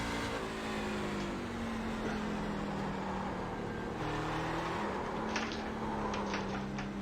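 A NASCAR racing truck circles Oulton Park in a racing game, its engine a continuous loud drone with shifting pitch as it accelerates and brakes through the lap.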